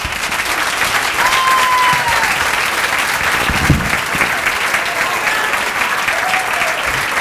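Audience applause fills a comedy club at a stand-up set, a steady, dense wash of clapping that holds evenly for several seconds without pause.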